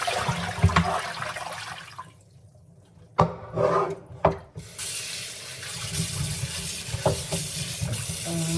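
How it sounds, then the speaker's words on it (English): Fruit is rinsed under a running tap to wash off a baking soda and apple cider vinegar solution: loud close water flow, then a brief pause broken by sharp knocks, before the stream resumes. "So I'm gonna wash that solution off."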